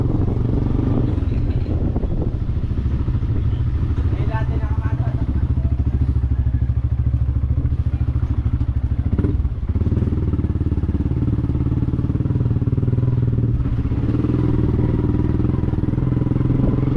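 A steady motorcycle engine rumble runs throughout, loud and close, with occasional clatter and wind buffeting.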